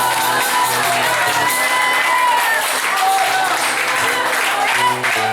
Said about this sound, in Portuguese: Pode aplaudir Jesus e adorar Ele